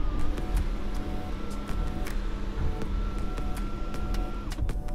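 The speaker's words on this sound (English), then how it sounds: "as for the sunroof, let's see how wide it opens" Electric sunroof on a Jaecoo J8 PHEV motoring open, a steady whirring hum inside the cabin with a few soft clicks and a small shift in tone near the end, no voices.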